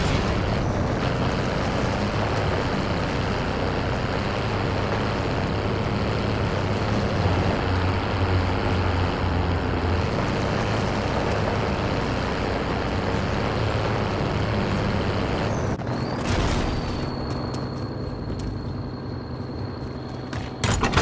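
Steady vehicle engine drone while driving in Call of Duty Warzone, a loud continuous hum with wind noise for most of the stretch, then a sharp clatter and a fading engine near the end.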